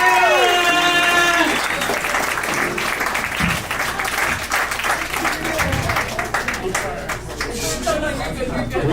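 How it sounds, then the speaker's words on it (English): An audience at a live comedy show breaks into loud applause and cheering, the clapping dense and sustained with crowd chatter and a voice talking over it. "Give a big round of applause to Brianna!"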